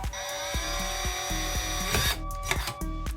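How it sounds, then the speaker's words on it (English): A power drill bores into the ridge of a metal cookie tin, its close, loud whine broken by regular catching pulses about every half second, with a harsher grinding burst toward the end. "I have to drill into this ridge here"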